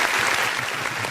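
A brief burst of audience applause at a Brazilian credit industry talk, dense clapping from a crowd lasting about a second, fairly loud and without speech.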